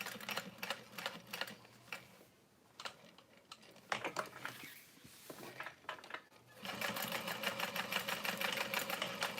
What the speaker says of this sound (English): And then I'm gonna sew across for strength.